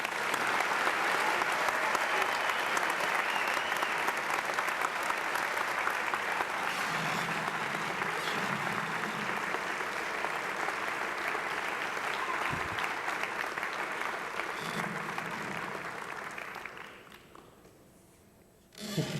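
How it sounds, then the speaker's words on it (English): Sustained audience applause at a senior awards ceremony for a high school class of 2000, a dense steady wash of many hands clapping that runs for most of the stretch before fading out near the end. "Students, please remain on stage as we applaud you"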